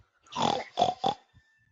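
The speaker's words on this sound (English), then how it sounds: "What is that? Pig." A pig grunts and oinks three times in quick succession, one longer call followed by two short ones, clear and close against near silence.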